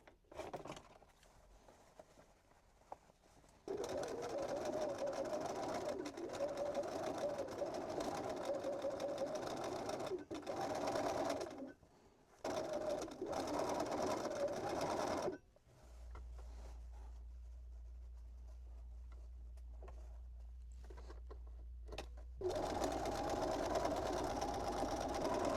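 A sewing machine stitching around the edge of a fabric drawstring pouch, a close, steady mechanical whirring that runs in long bursts and stops briefly several times, with a low hum during one pause.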